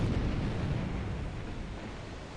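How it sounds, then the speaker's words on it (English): Naval shell explosions in the War in the Pacific strategy game form a loud, continuous low rumbling blast that slowly fades over a couple of seconds, with no voices. "we see some explosions here"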